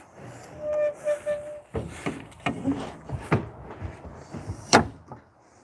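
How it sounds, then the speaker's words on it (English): A horse trailer door swings shut with a few knocks and a latching clunk near the microphone, amid rustling and handling noises, with no talking. "Let's close the door."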